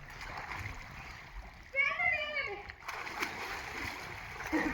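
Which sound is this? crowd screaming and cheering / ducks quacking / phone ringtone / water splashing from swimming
water splashing from swimming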